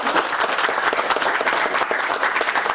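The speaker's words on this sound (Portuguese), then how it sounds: "Uma salva de palmas para o Paulo." An audience at a university lecture hall applauds a guest, producing a dense, steady wash of many hands clapping close by and fairly loud throughout.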